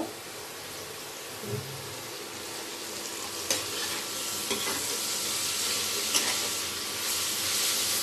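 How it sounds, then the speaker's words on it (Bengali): Oil sizzling steadily in a pan as something fries, a continuous bright hiss with occasional stirring scrapes and small pops, close and fairly loud, no talking. "দিব তেল, তেল দিয়ে ভালো করে ভেজে নেব"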